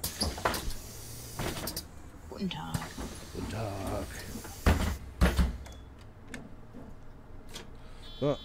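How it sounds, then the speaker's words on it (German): The rear door of a city bus closes in the OMSI 2 bus simulator game, a series of clunks and pneumatic thuds with door-mechanism rattles. Someone talks over the clatter from start to finish. "Türe zu da hinten."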